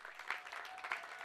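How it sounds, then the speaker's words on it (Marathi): Faint, distant applause rises from a crowd at a prize distribution for the runner-up team of a local championship, a brief, soft, even clatter of hands with no voices over it. "तर पुन्हा एकदा जोरदार टाळ्या वाजवा उपविजेता संघ"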